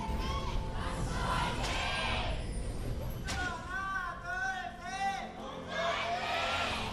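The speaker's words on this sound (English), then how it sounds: "Oh, pretty divided crowd here." A large esports crowd at an LCK Summer League of Legends match cheers and shouts in a divided, rolling roar, with layered voices rising and falling throughout.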